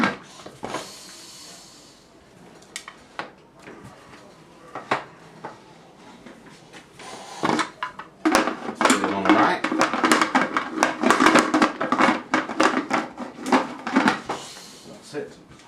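Metal clatter and clunks as a lid is fitted onto a pressure cooker holding gravy, with scattered knocks early on and then a dense run of rattling metal contacts, under occasional talking.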